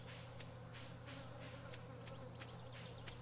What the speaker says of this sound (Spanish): ¿Cómo suenan aquí las moscas?